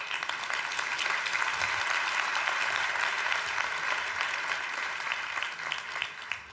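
Audience applause opening a European research and innovation conference, a steady, full round of clapping from a large hall that holds evenly for several seconds before tapering slightly.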